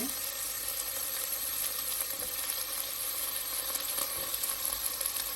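Washed mixed vegetables sautéing over tomatoes in a pan, a dense continuous frying sizzle close up with faint scraping stirs, no voices over it.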